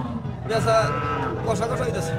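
An eight-tooth cow gives a drawn-out, low moo close by at the Bengula cattle market, with a murmur of people in the background.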